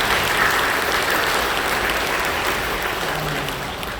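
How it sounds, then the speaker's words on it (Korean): A church congregation claps together during a worship service, a broad sustained wave of applause that holds steady throughout and tapers slightly at the end. "박수를 감사해 주시죠."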